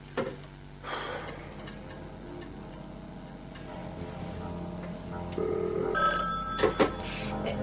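A telephone rings after a call is dialed, a few electronic trilling bursts sounding alone in a quiet room, with faint ticking in the background and no talking.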